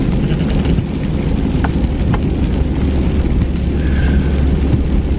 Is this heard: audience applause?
no